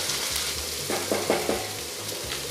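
Minced ginger going into a sizzling lamb curry pan: a steady frying hiss with a few short stirring scrapes in the middle, close and alone.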